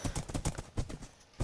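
Horse hooves clopping in Minecraft, a quick series of close, crisp thuds in an uneven trotting rhythm, heard alone.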